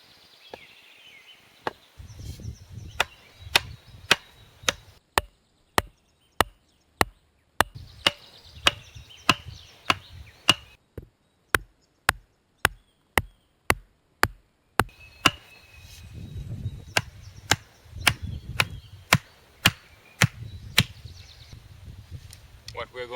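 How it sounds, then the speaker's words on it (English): A sharpened wooden pole is pounded into the ground outdoors for a primitive feather spear trap, with sharp, close knocks in steady runs of a dozen or so and short pauses with low rustling in between. "We are going to smash this pole in the same level as the other pole on the tree."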